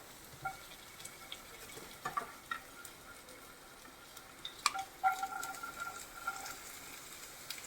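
Vegetables such as carrot, beans, cabbage and tomato sizzle in sunflower oil in a frying pan while Maggi noodles are prepared, a low continuous fry broken by scattered stirring clicks and scrapes, with no talking.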